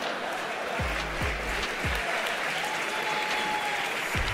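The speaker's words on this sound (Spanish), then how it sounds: "Un aplauso." Audience applause, a loud continuous wash of clapping and crowd noise that holds for several seconds, with a few low thumps underneath.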